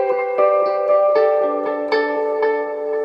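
Clean Jazzmaster-type electric guitar with P90 pickups, run through a Timeline delay and Trinity reverb in the effects loop, plays a steady line of picked notes with lush, echoing sustain, close and alone.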